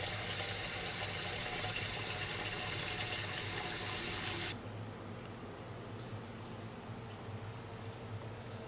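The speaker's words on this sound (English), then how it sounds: "Fill your pot with hot water." A pot is filled with hot water from a running kitchen tap while canning dill pickles. The loud, steady gush lasts about four and a half seconds, then drops to a much quieter trickle and background hiss.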